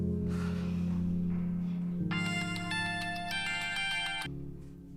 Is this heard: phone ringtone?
yes